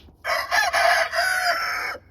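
A rooster crows loudly and close in a barn housing meat chickens, one long drawn-out cock-a-doodle-doo rising and falling over about two seconds.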